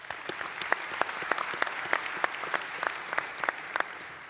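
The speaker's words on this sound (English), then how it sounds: "Please give them another round of applause." An audience at a ministerial panel event applauds steadily, with many close, sharp claps forming a dense, even patter throughout and no voices.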